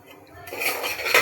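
A spoon stirs a mixture of Kashmiri red chili powder and barnyard millet in a pan, making a short, close burst of scraping and clinking.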